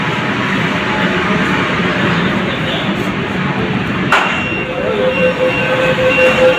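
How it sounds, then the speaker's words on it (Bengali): A Kolkata East West metro train stands at an underground station with a steady loud rumble and hum, a sharp clunk around the moment the doors open, then a thin sustained tone. "এবারে খুলবে মেট্রো গেটটা।"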